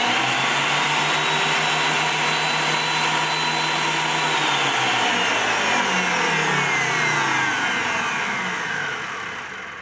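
A Craftex CX13HC helical-head thickness planer runs at high speed with its rollers engaged, a loud, steady whine with a drifting tone that holds throughout and fades slightly at the end.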